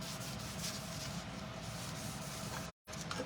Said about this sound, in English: I want to get any of that excess wax off, so I'm going to rub it and buff it really well